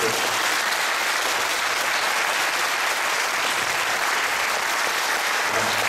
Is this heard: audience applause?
yes